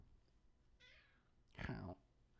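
A person imitates a cat's meow with one loud, drawn-out nasal call after a shorter faint one, close to the microphone.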